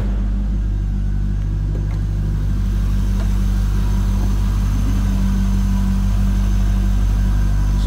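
A 1998 Chevrolet Corvette convertible's LS1 V8 idles through a Borla exhaust with a loud, steady, deep rumble, up close and continuous with no voices.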